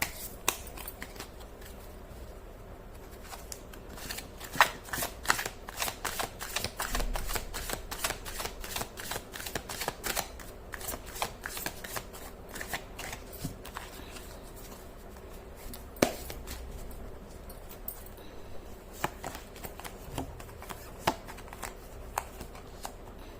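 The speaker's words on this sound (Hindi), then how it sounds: "कर लेती हूँ कार्ड की शफलिंग" A deck of tarot cards shuffled by hand, a long run of rapid close riffling flutters and soft slaps repeating in bursts, quiet and alone without talk.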